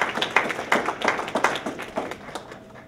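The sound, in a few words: round of applause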